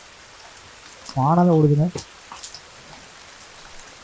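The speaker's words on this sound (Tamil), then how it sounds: "மழை வேற பெய்யுது" Rain falls in the survival video game The Forest as a steady, even hiss that runs through the whole stretch, while a voice briefly speaks over it.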